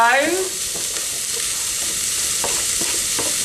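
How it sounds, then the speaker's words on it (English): Diced vegetables for spicy Mexican rice fry in a pan after spring onions, giving a steady, close sizzle with a few light clinks and scrapes of stirring. "I'm going to fry these now until these start to soften like the spring onions have."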